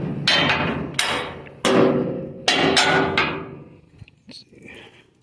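Hammer blows on metal while removing a bumper piece from a 1972 Chevy C10 truck: a handful of loud, ringing strikes at uneven intervals, each decaying slowly, followed by softer clatter.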